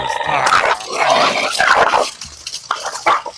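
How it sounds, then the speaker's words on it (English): Several dogs bark, yip and snarl in a scuffle over a bone, loud and close, with overlapping growls and barks filling most of the stretch and a few sharp yelps near the end. "They're fighting over a bone."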